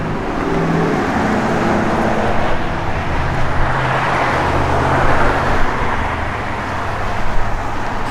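A 1969 Chevrolet Chevelle SS with a 4-speed idles and rumbles through its aftermarket exhaust pipes, a steady, loud, close low-pitched drone with small surges in the engine note and no talking.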